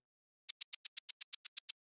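Eleven crisp, bright synthesized shaker ticks in a steady 16th-note pulse, evenly spaced and centered without panning, each short and airy, starting after a brief silence.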